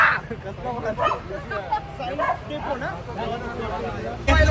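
A dog yips and barks repeatedly amid a murmur of nearby voices and background chatter.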